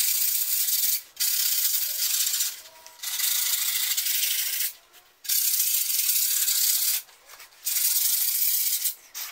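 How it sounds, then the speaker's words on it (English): Sandpaper rubs along the grip tape edges of a skateboard in a steady rasping scrape, heard close in four bursts separated by brief pauses. "we're going to sand down the edges to make sure that the grip tape doesn't peel off when we skate it"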